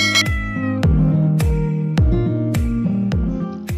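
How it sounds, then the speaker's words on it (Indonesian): A pet cat meows repeatedly in a steady rhythm, close and loud, set against a pulsing musical beat. "aku sekarang punya kucing"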